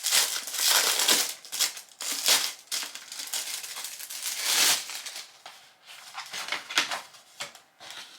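Plastic packaging from a Temu order crinkles and crackles close up as it is unwrapped, coming in uneven bursts of rustling with brief pauses between handfuls.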